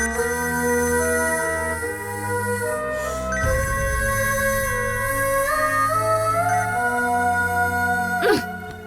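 A phone plays a melodic ringtone that loops on for several seconds with nobody picking up, layered over steady background music.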